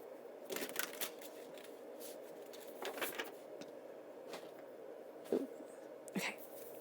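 Tarot cards are shuffled by hand in quiet, irregular bursts of riffling and sliding, close but soft, with brief pauses between handfuls during a psychic reading.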